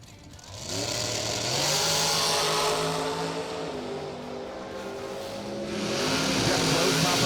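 A 2007 Miller chassis dragster races down a drag strip against another car, its engine rising quickly to a loud, strained roar with rising pitch, then fading slightly before swelling again, heard from trackside.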